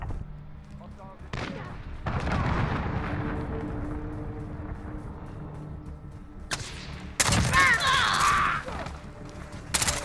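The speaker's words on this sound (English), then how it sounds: "Allied cruise missile away." Cruise missile strike explosions in a first-person shooter, a deep rumbling boom that swells and lingers, followed by sharper blasts and bursts near the end, with voices speaking over parts of it.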